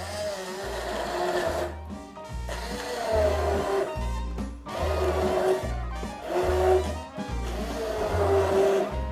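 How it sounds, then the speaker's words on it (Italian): An immersion blender purees vegetables into a sauce, its motor whirring in four strong bursts separated by short pauses, loud and close, with faint music underneath. "vado dentro col frullatore di immersione."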